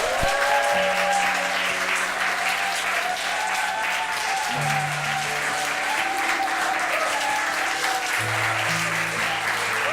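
A church congregation applauds steadily throughout a Wednesday worship service, with dense sustained clapping and a sustained musical drone of keyboard notes underneath.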